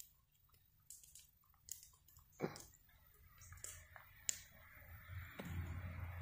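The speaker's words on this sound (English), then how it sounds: "He's smart, but he is also chewing on a stick." A dog gnaws on a cedar log or stick, giving irregular close wet crunches and sharp snapping bites scattered over a quiet background, with the chewing growing busier toward the end.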